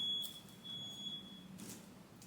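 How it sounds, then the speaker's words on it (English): A faint high-pitched electronic beeping tone, thin and steady with brief pauses, heard at a distance over a quiet background. "And sorry, there was some beeping outside."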